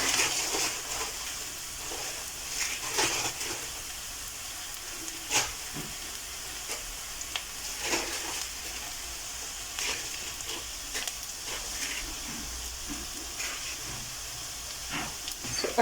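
Minced meat frying in a pot, a soft steady sizzle and hiss with intermittent scraping clicks as it is stirred, fairly close and moderately quiet throughout.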